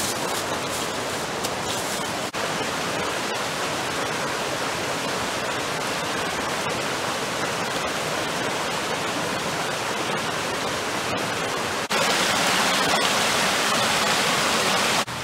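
Creek water rushes steadily where deer hides are set to soak, a loud continuous broadband flow with a brief jump in level near the end and no talking.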